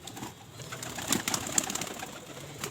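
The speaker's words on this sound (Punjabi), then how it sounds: "ਲਓ ਜੀ ਕਬੂਤਰ ਆਪਣੇ ਆ ਗਏ ਨੇ" Soft pigeon coos and rustling sit in a quiet outdoor space, with a few brief sharper clicks or flutters mixed in, and no voices.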